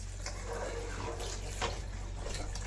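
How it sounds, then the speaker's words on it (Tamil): Water splashes and pours steadily into a pan of mushrooms, with a continuous gurgling wash and a low hum in the background. "இந்த மஷ்ரூம் வேகிற அளவுக்கு கொஞ்சம் தண்ணி ஊற்றிக்குவோம்"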